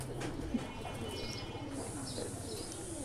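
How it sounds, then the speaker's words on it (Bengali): Racing pigeons in a home loft give soft, low cooing, faint and continuous under a steady background hum, with no talking. "এই নটটাকে আমি রানী কবুতর বলি"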